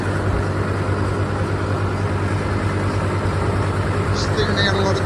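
An old SAME tractor engine runs at a steady, loud low rumble close by, continuous throughout while someone talks over it.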